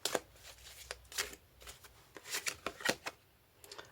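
Tarot cards being handled and drawn from a deck, a string of sharp, close papery flicks and snaps in irregular bursts over a quiet background.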